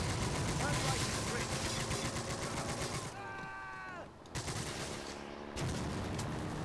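Rapid rifle and machine-gun fire in Call of Duty United Offensive, loud sustained volleys that cut out briefly during a musical radio-like passage before the shooting resumes.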